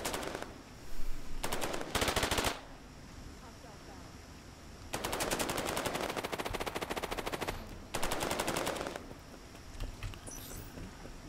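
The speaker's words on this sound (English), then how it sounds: "There is the sniper up at the front, and he starts popping off shots." Sniper rifle fire in the video game Cepheus Protocol, heard as several separate bursts of rapid sharp cracks spread across the stretch, with quieter game ambience between them.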